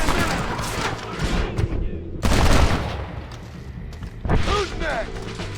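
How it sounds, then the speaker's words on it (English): Gunfire in the Western video game Red Dead Redemption, rapid bursts of loud cracking shots in clusters with brief lulls, mixed with game character voices shouting. "Stop shooting at me!"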